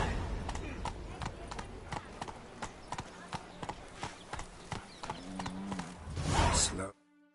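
Horse hooves clip-clop in a steady galloping rhythm in the video game The Witcher 3, with a snort or whinny near the end before the sound cuts off.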